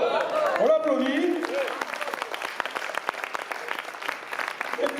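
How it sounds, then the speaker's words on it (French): Lively clapping and cheering from an audience at a Snow White stage show, loud and continuous, with a voice calling out over the start before the crowd settles into steady applause. "Bravo! On l'applaudit."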